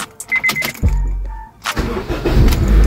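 A 2007 Honda Civic 1.8S FD with manual transmission cranks briefly and catches, its engine settling into a steady, loud idle close by, with a faint jingle of keys beforehand.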